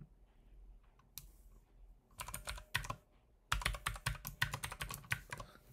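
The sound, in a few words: typing an email address and password on a computer keyboard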